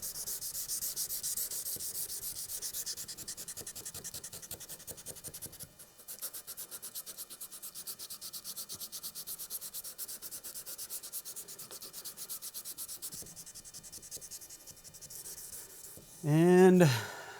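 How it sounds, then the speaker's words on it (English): Hand sanding a Damascus integral chef's knife blade on 400 grit paper: steady rhythmic abrasive rubbing strokes, close and continuous, with a brief pause midway and a short burst of other noise near the end. "Blade is hand sanded."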